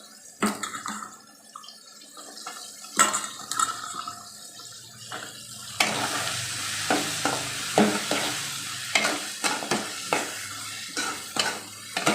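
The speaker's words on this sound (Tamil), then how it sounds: "வெங்காயம் தக்காளி வேர்க்கடலை எல்லாம் நல்ல எண்ணெயிலே நல்லா வதங்கிடுச்சு" Onion, tomato and soaked, boiled peanuts frying in oil for a peanut kara kuzhambu. A steady sizzle is broken by repeated close scraping stir strokes, and the sizzle grows louder in the second half. No one speaks.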